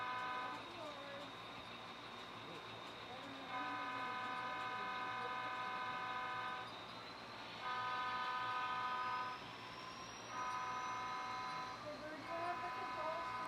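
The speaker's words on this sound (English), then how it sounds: "I don't have to hear that horn all the time" An HO scale model train horn sounds in several long, steady blasts separated by short pauses, over the constant hum of the running train.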